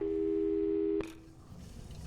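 A steady telephone tone in Portal 2 holds for about a second, then cuts off abruptly with a click, leaving a low ambient hum and faint background noise.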